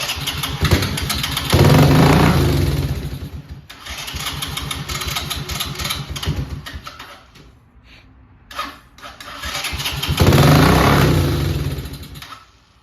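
Engine of a 1984 Honda TRX 200 ATV idling and revving up in loud swells, with the revs rising and falling twice and a brief quieter dip between bursts.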